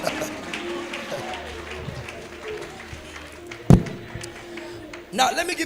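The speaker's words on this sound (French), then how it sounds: "Let's clap for the general of God" A church congregation in Abidjan, Ivory Coast, applauding a preacher: a steady crowd clatter of clapping and cheering, moderately loud, under a voice.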